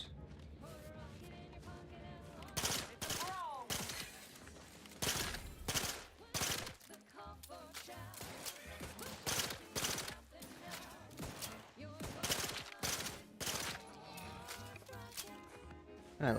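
A 3-round burst Mauser firing in the video game Outer Worlds 2, with repeated sharp bursts over a continuous game soundtrack and a voice talking at times.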